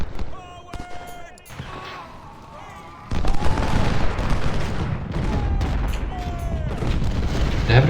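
Cannons booming in an Ultimate General: Civil War battle, scattered thuds at first, then a heavy continuous barrage of overlapping blasts and rumbling fire from about halfway on, with musical tones drifting over it and no talking.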